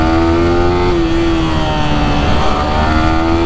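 A Yamaha R15 motorcycle pulls hard in second gear at full throttle, its engine note loud and close, holding a steady high-revving drone that dips slightly and climbs again.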